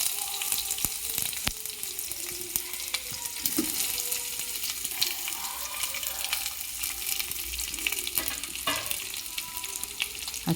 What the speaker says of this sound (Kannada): ನಂತರ ಈರುಳ್ಳಿ ಹಾಕಿ ಚೆನ್ನಾಗಿ ಫ್ರೈ ಮಾಡಿಕೊಡಿ.